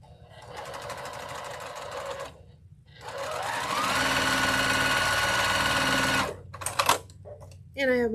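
A sewing machine runs close by in steady stitching bursts of a few seconds, pausing briefly between runs and ending with short clattering starts and stops.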